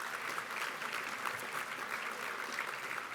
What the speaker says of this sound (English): Could you all stand and let us give you a round of applause?